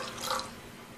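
Water poured from a cup into a pan of lentils that were soaked for an hour, set over medium heat: a short, soft splashing pour with no voices.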